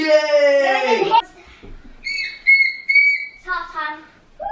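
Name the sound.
children blowing whistles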